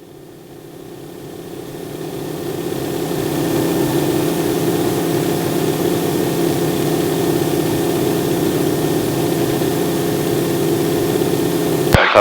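A Harvard aircraft's engine roars steadily during climb-out at about 100 mph, starting somewhat quieter and building to a loud, sustained drone with a low throbbing rumble and propeller buzz, heard from inside the cockpit with no talk.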